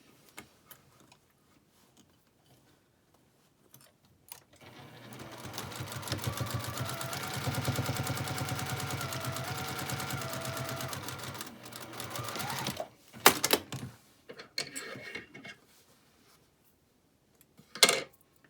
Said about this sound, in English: And then we'll just top stitch that opening closed.